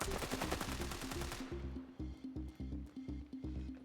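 Rapid automatic gunfire in the video game Standoff 2 rattles in quick bursts, a fast stream of shots that thins into a rhythmic series of sharper individual reports.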